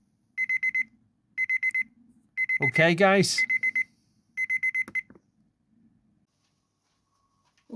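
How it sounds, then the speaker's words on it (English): A plating tank heater's alarm beeps in repeated short bursts of rapid electronic pips, loud and close, with someone briefly speaking between the beeps. "when that goes off, that'll just beep and let me know"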